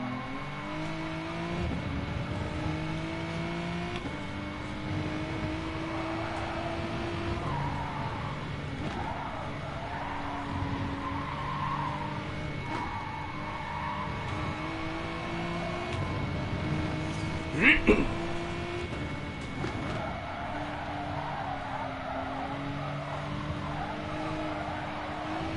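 Race cars in the GT Sport video game roaring and revving as they accelerate out of corners, engine whine rising and falling over a continuous din, with a brief tire squeal, under a commentator's voice.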